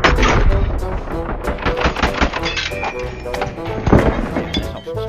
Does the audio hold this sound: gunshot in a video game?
yes